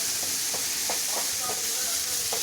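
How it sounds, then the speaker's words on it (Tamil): Onions and tomatoes frying in a pan, a dense steady sizzle close by with a few soft stirring scrapes over a short stretch. "நல்லா வெங்காயம், தக்காளி எல்லாம் பொன்னிறமாக வறுத்த வரைக்கும் நல்லா வறுத்துக்கணும்"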